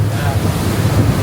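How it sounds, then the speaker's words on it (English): Heavy wind buffets the microphone in a steady low roar, loud and close, with waves or rushing water mixed underneath, aboard a boat at sea between Corfu and Sardinia. "Super windy, so apologies for the noise."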